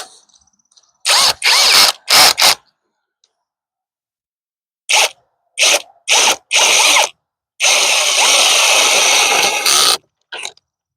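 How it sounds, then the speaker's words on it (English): A power drill bores partway into a wooden seat board in a series of short whirring bursts, then a longer sustained run near the end, close and loud with silent gaps between. "No, we don't want to drill all the way through."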